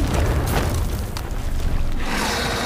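Ship cannons fire in the Sea of Thieves video game, a couple of muffled booms over a dense, continuous wash of game noise with no voices.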